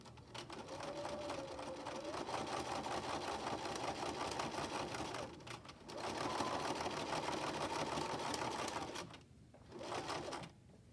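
Sewing machine running a long basting stitch, a steady continuous hum for several seconds, a brief stop, then another long run and a short final burst, alone without talk.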